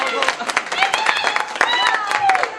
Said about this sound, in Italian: Ma ne facciamoci una voce applauso!